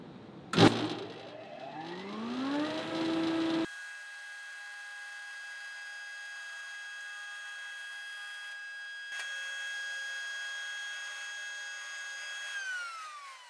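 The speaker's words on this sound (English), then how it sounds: "I got to turn the machine on and raise the table with the lever" A thickness planer whirs up to speed after a brief clunk and settles into a steady, high machine hum, holding there for several seconds before a slight shift and spin-down near the end.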